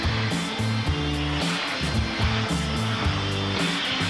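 The turbine blower of a hydro-vac truck runs with a continuous loud, dense rushing whoosh, overlaid by a fluttering, shifting low drone that holds steady throughout.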